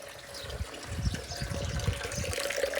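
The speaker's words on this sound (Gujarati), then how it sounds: "પાણી કેમ થોડું આવે?" Water runs weakly from an opened valve, a soft uneven trickle and splashing heard close and faint, with no talking.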